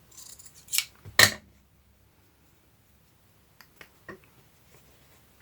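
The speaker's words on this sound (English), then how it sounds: "I am going to cut this piece because I don't like this being perfectly straight" Scissors snip through a piece of fabric for a handmade journal cover: two sharp close cuts early on, then quieter, scattered snips and handling sounds after a pause.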